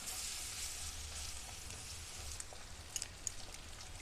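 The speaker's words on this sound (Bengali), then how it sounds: "আবার ভালো করে নাড়াচাড়া করে নেব।" Fish and chopped tomato are stirred in a frying pan, producing a faint, steady sizzle with a few light clicks of the utensil near the end.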